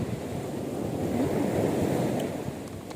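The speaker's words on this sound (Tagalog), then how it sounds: "maingay kasi sa alon po malakas yung alon niya" Loud, continuous roar of crashing ocean waves with gusty wind noise on the microphone, steady throughout with no voices.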